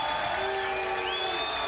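A crowd at a 2000 professional bowling title match between Norm Duke and Steve Jaros applauds and cheers, a brief continuous wash of clapping and voices with tonal sounds over it.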